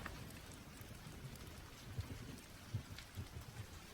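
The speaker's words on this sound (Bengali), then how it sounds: "বড় বড় ফোঁটায় মুষলধারে বৃষ্টি হচ্ছে।" Heavy rain pours down during a storm, a steady, dense wash of drops on surfaces with occasional soft low thumps, fairly quiet and without voices.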